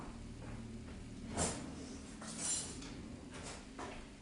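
Kitchen drawer sliding and cutlery clattering as a spoon is taken out, a few soft, separate knocks and rattles heard close by with no talk.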